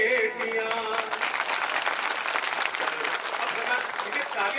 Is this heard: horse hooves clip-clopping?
no